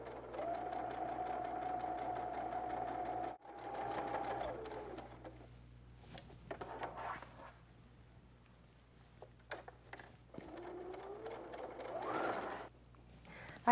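Sewing machine stitching around the edge of fabric, a steady fast mechanical whir running in several bursts separated by short pauses and handling clicks, close and fairly quiet.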